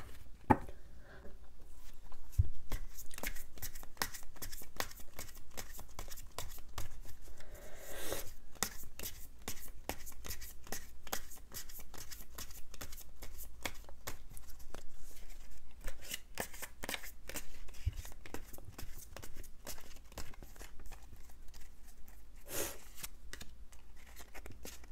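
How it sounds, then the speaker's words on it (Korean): Tarot cards shuffled and drawn during a solo reading, a steady run of close, crisp riffling, sliding and flicking card sounds with no talking. "제가 추가 카드로 한번 뽑아보도록 할게요."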